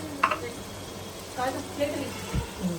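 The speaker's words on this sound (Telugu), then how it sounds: "ఇక్కడైతే ఇంకొన్ని ఉల్లిపాయలు ఫ్రై అవుతున్నాయి." Onions sizzle and fry in a pan at a home cooking gathering, a faint, steady crackle that sits low under voices talking nearby.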